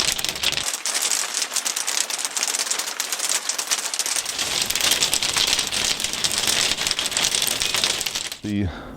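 Steady rain patters down on an allotment garden, a dense continuous hiss of drops hitting surfaces that stops abruptly near the end.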